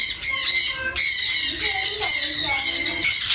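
A bird in a bird area at a farm villa in Chavakkad gives loud, sharp, harsh squawks, repeated in quick close bursts with only brief gaps.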